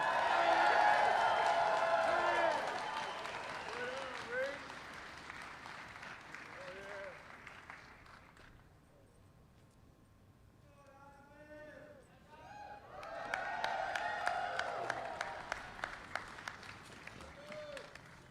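Crowd applause at an outdoor rally of striking Kellogg's workers: scattered clapping and cheers that fade into a quieter stretch with voices, then swell again into a second round of clapping, with people talking throughout.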